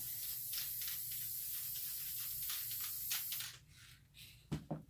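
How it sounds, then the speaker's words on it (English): Quiet bursts of hissing alcohol ink spray repeat for a few seconds, then stop, leaving a couple of faint clicks. "spray a thin layer of it over this center here"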